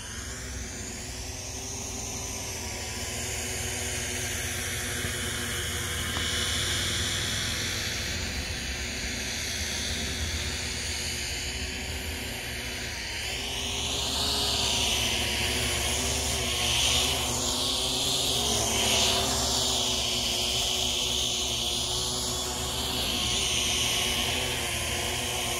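Syma X8HC quadcopter drone buzzing as it flies in to land, a steady high whine of small propellers whose pitch rises and wavers as it maneuvers nearby, with no talk.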